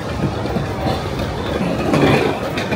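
Train rumble on a rail platform in Tokyo, with a steady low rolling roar and faint clattering wheels that swell slightly toward the end, no voices.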